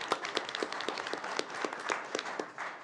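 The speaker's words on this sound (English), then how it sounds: "So give a round of applause." Audience at a school board meeting gives a short, modest round of applause, a small group of hands clapping distinctly with audible individual claps, fairly quiet and close.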